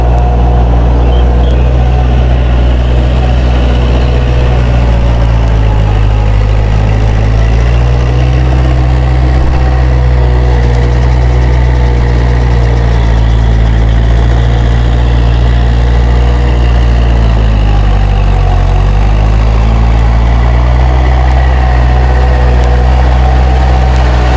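A Kubota L4708 tractor engine labours steadily while puddling a deep-mud paddy field, a loud, continuous low rumble with slow swells in pitch as the load rises and eases, running alone with no talk.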